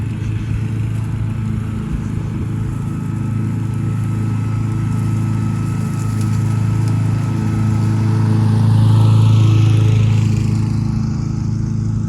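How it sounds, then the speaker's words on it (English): A lawn mower cutting grass outdoors in spring, its engine giving a steady low drone that swells slightly louder toward the end, heard from a moderate distance with no talking. "people mowing grass."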